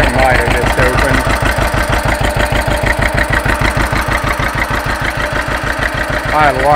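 A freshly overhauled John Deere 530 tractor engine runs on its first start, a loud, steady, rhythmic two-cylinder chugging pulse close by, with people talking over it.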